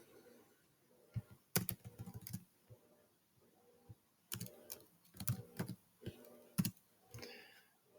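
Code being typed on a computer keyboard, with quiet, close keystrokes arriving in short irregular bursts separated by brief pauses, along with a few sharper clacks.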